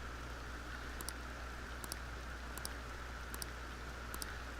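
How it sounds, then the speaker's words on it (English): Steady rain falls in the video game Persona 5 Royal, a soft continuous patter with a low hum beneath and faint, regularly spaced high clicks repeating about every second. "And it's raining."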